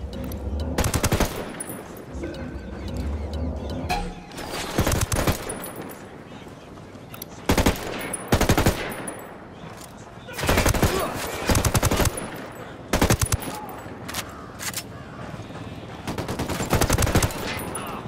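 Automatic gunfire in the video game Ghost Recon Wildlands comes in repeated loud bursts separated by short lulls, close and sharp, with some voices in between.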